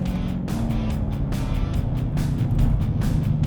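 A Chevrolet Corvette Z06 runs a hot lap on a track, with the engine droning and surging through gear changes, a loud in-cabin growl punctuated by repeated bursts of rushing noise.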